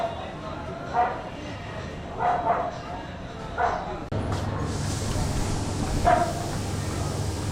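Dog barks on a street in Varanasi, India: a few short yips and barks spaced irregularly over busy outdoor ambience, with a louder bark near the end as background noise swells.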